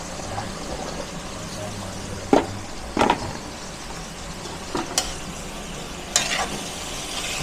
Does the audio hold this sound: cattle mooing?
no